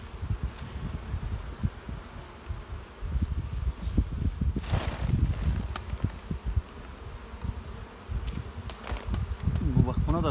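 Honey bees hum around beehives, a loud continuous drone up close, with occasional rustling and handling noises mixed in and no clear speech.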